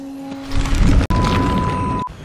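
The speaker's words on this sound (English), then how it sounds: "the Black Pearl has just been demolished. Yo, explosions are going on." The Black Pearl ship explodes in Fortnite with a loud, dense, rumbling blast that swells, cuts out for an instant and then carries on for about a second and a half.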